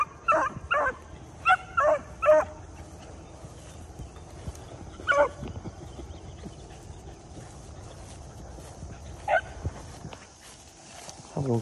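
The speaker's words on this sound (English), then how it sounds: "No telling which way them dogs gonna end up going" Beagles running through a field let out bursts of yelping barks and bays, several clustered early then scattered further apart, at moderate distance against outdoor quiet.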